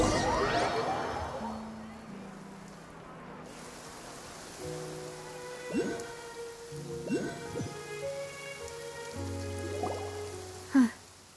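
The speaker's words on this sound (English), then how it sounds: "It's been raining non-stop for a few days now." Steady rain falls in the Genshin Impact video game, a continuous hiss that stays under characters talking and a musical score with soft chimes.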